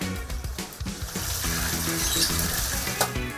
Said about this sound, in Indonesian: kemudian cuci pada air mengalir. Sambil digosok-gosok supaya kotoran yang menempel bisa lepas.